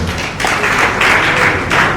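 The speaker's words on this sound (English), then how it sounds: "Please, a round of applause for everyone once again." Audience at an awards and honours event in Lagos applauding, a loud, dense, continuous round of clapping that holds steady through the whole stretch.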